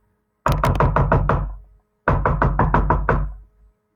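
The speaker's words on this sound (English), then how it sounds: "Something's knocking at the door." Two loud bursts of knocking on a wooden door, each a quick run of about six sharp raps, separated by a short silence.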